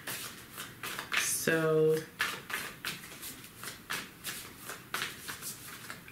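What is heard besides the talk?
shuffling tarot cards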